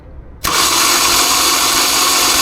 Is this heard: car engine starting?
yes